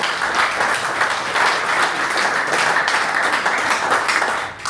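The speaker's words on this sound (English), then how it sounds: "a round of applause to the boys from the" An audience at a live talk event gives a round of applause, a loud, dense, continuous wash of many hands clapping that holds steady for several seconds before easing slightly at the end.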